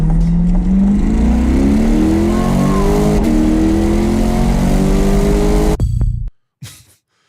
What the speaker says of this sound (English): You like revving this engine?